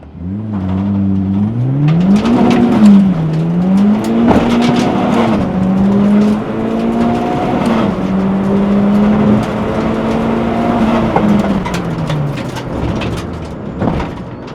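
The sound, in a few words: K-swapped turbo Honda Civic EG accelerating hard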